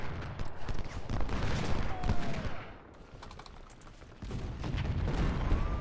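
Ultimate General: Civil War battlefield, where troops' musket fire crackles in dense distant volleys, rolling and overlapping at moderate loudness, with keyboard clicks mixed in.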